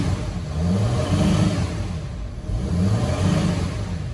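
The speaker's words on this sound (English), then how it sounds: "Turbo spool." An upgraded turbo on a Mercedes Sprinter van's OM642 3.0 V6 diesel, heard as a continuous close engine drone that swells and eases while driving, with a faint high whistle running over the top.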